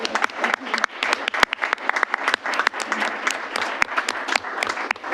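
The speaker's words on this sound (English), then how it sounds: "Should we clap?" A room of people at a city council meeting claps after a proclamation is read, a steady patter of hands with some sharper individual claps and faint murmuring underneath.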